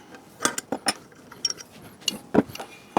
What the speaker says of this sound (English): 17mm wrench.